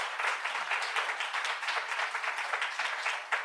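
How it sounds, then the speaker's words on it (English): Audience applause at an economic policy conference, an even and sustained roar of clapping from a full room, moderately loud with no voices over it. "Let's give them another round of applause."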